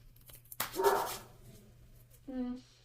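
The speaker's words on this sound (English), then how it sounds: "Sorry, my dog's barking." Dog barking indoors: one loud, close bark followed by a shorter yelping bark a moment later, with a quiet room tone in between.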